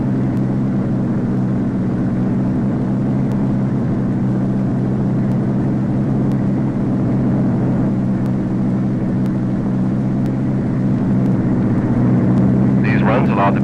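Convair XF-92 delta wing aircraft during high-speed runway taxi runs: a continuous low engine roar and rumble held steady throughout, moderately loud, with a brief higher burst near the end.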